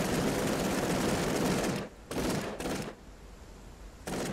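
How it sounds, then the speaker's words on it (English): Turrets firing in Cepheus Protocol, loud sustained bursts of rapid gunfire that stop and start in several separate volleys with brief quiet gaps between them. "Turrets are shooting."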